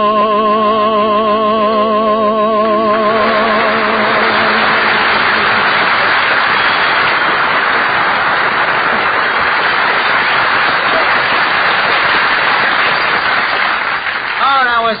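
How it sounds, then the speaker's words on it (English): A large audience bursts into sustained, loud applause at a comedy club, the clapping building after a short stretch of voices and continuing densely for over ten seconds. "Eddie, did you hear that clapping?"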